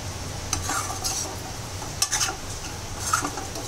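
A spoon stirs sabudana khichdi in a pan, giving a few scraping strokes and light clinks over a soft, steady sizzle.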